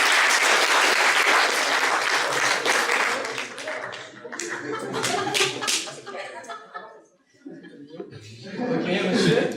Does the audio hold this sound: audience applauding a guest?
yes